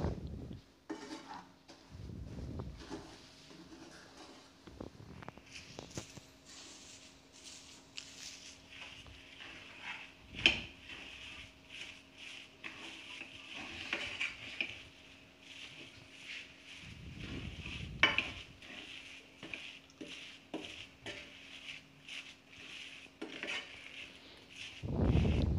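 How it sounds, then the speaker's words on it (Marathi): A coconut and powdered sugar mixture is stirred in a pan, with repeated scraping and clinking of a spoon against the metal and soft, steady mixing noise throughout, close and moderately loud. "आता हे सर्व मिश्रण आपण व्यवस्थित मिक्स करून घेऊया"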